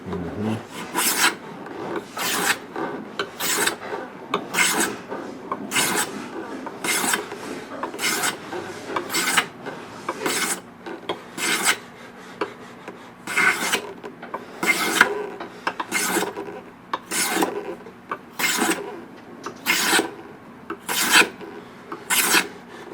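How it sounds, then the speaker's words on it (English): A hand plane takes repeated strokes along a guitar fingerboard, each pass a sharp rasping scrape in a steady rhythm of about two per second, close and loud with no talk. "every time I run the planer down the board, I'm pointing the end of the planer to that focal point"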